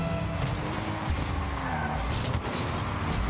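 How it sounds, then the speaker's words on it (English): A car in Rocket League brakes hard and skids during a competitive 1v1 playoff match, producing a loud, continuous tire screech and engine roar over dense game noise. "hits the brakes right before the bump comes through."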